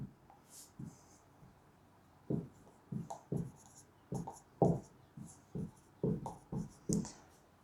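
Chalk or marker strokes on a board during a physics lesson, short scratchy taps and scrapes in irregular bursts, close and fairly quiet, with no talking heard.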